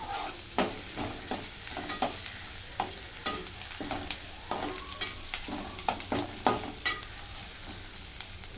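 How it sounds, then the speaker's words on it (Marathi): Onion frying in a pan with bay leaves and cinnamon pieces, a steady close sizzle broken by repeated sharp scrapes of a stirring spoon at an uneven rhythm, with no voices. "कांदा भाजून घेते आता कांदा भाजत आलेला आहे"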